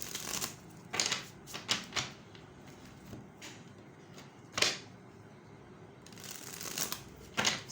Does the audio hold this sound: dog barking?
no